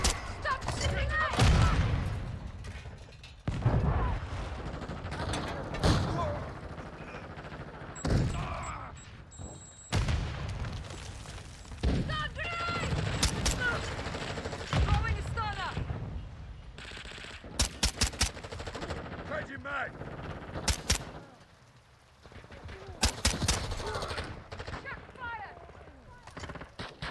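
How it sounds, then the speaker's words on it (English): Rapid bursts of automatic gunfire and single shots in a first-person shooter match, with a 9mm Daemon pistol among the guns, loud and repeated through the whole stretch, with short gaps and a player talking at times. "Stop shooting me!"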